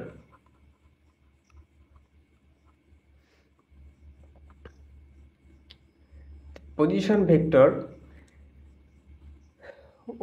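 Chalk or marker writing out a position vector on a classroom board, heard as sparse, faint taps and scrapes over a low steady hum, with a brief voice partway through.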